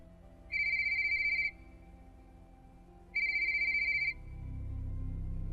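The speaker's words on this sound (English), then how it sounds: "I had this default ringtone to recognize job calls." A phone's default ringtone rings twice in clear electronic bursts about a second long, separated by a pause, over a quiet low background hum that swells toward the end.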